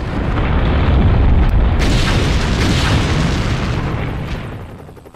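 A nuclear test detonation in the Nevada desert produces a massive, loud, sustained roaring blast that rumbles for several seconds before slowly fading.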